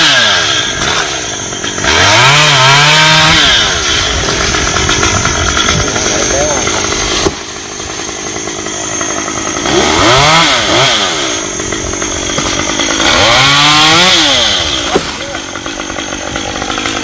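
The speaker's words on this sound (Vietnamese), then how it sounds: "cưa cây xoài này trước rồi mới cưa được cây bàn gai" A chainsaw runs steadily at close range, its engine revving up into loud rising whines three times as it bites into a mango tree, idling in between.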